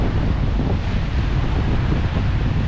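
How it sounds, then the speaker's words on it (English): Ocean waves at Dancing Ledge on the Dorset coast, a steady broadband roar of surf mixed with heavy wind buffeting the microphone, continuous and fairly loud with no distinct breaks. "just to check out the waves"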